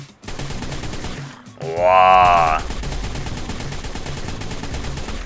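An assault rifle in ARK: Survival Evolved fires a continuous burst over game background noise, with a loud rising-and-falling tonal swell in the middle where a voice briefly exclaims.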